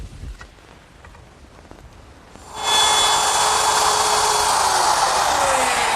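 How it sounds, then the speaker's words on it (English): A router with a straight bit plunges into wood to cut a mortise for an umbrella stand, a quiet lead-in giving way to a loud, steady high-pitched whine that holds to the end. "plunge the router into the work and allow the bearing to guide around the edge of the template"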